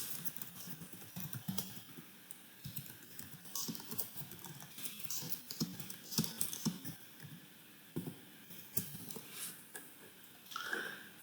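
Typing on a computer keyboard while writing code produces quick, irregular clusters of close, crisp key clicks with short pauses between bursts.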